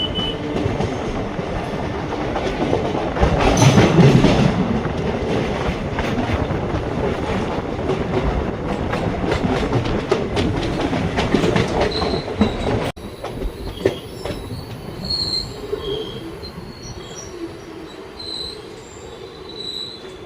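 The Ananthapuri SF Express rolls along on Indian rails, a loud steady rumble with clattering wheels and high metallic squeals. Around the midpoint the noise drops to quieter rolling, and sharp squealing tones continue near the end.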